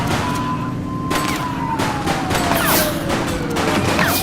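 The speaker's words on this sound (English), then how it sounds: "She's shooting!" Rapid gunfire erupts in The Precinct, a police video game, as a suspect shoots during a street chase; sharp repeated cracks ring out over a droning siren and steady engine hum, loud and continuous throughout.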